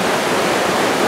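Mountain river in the Subpolar Urals rushing past, a dense, steady roar of fast-flowing water, close and loud with no other sounds.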